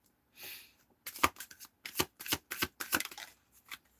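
Tarot cards being shuffled by hand in a quiet room: a series of crisp riffling bursts, about eight short flurries over four seconds, near and clear with no talking.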